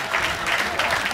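Spectators at the edge of a youth football pitch clap for the Under-14 teams, a brief, steady burst of applause from a small crowd nearby.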